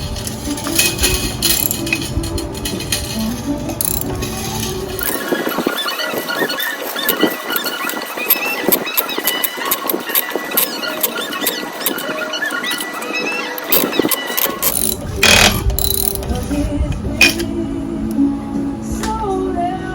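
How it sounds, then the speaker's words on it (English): Spring ratcheted into the rewind starter of a 1978 Evinrude 4 HP outboard, a rapid run of metallic clicks and rattles close up, pausing midway before the clicking resumes, with no speech. "now I'm going to ratchet her in."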